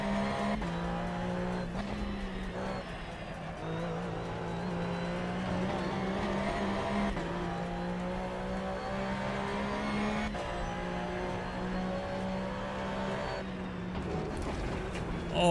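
Porsche Cup racing car in a driving simulator on a German countryside course, engine droning steadily throughout with shifting pitch as it accelerates and changes gear, occasional tyre squeal, loud and continuous.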